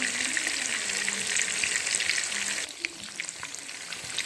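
Fish fries undisturbed in a pan over medium heat, making a bright, constant sizzling hiss that suddenly drops to a softer crackle with scattered pops near the end.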